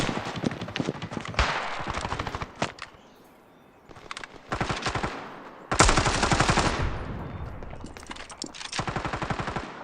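Gunfire crackles through a Counter-Strike match on the Inferno map, with rapid automatic bursts and single shots coming in clusters separated by short lulls, loud and close, with no voices over it.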